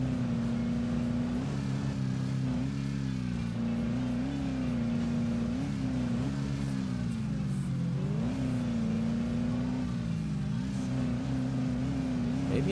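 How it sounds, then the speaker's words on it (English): Steady ATV engine drone from ATV Offroad Fury 4, with pitch wavering up and down as the quad bounces over an offroad course, suspension jostling, continuous and fairly loud, no talk. "I do kind of enjoy the sounds of the like suspension and so on jostling around in the vehicle as I'm bouncing around the course"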